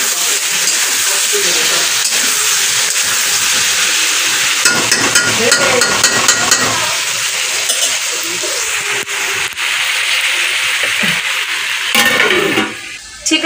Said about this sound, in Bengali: এখানে আলু কষা হচ্ছে